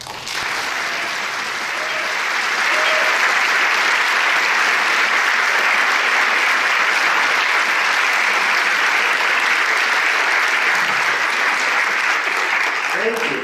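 A large audience at an author event in Chicago welcomes novelist Gary Shteyngart with loud, sustained applause that swells after the first couple of seconds and holds steady for over ten seconds.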